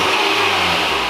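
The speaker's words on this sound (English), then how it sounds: "You just hear the engine, that's it?" A 2020 Nissan Sentra SR fitted with a custom fabricated exhaust runs close by, its engine giving a steady, throaty idle-to-rev drone with no talking over it.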